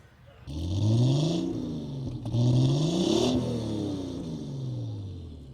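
A 1985 745i Turbo car engine revs up and down in smooth, rising and falling sweeps, close and fairly loud, with a turbo whine above.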